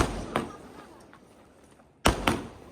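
Gaja Express firecrackers going off during Diwali celebrations, sharp loud cracks heard nearby, one around a third of a second in, then a louder double burst near the end, with faint background crowd noise in between.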